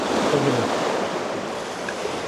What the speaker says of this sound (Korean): 파도가 센데